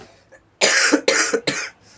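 A man coughs three times in quick succession, each burst sharp and close, with brief quiet gaps between and near silence before and after.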